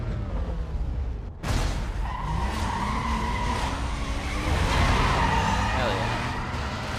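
A BMW in the racing game Need for Speed Most Wanted skids and drives hard, tires squealing and engine roaring loudly and continuously after a brief dip, with a voice over the game sound.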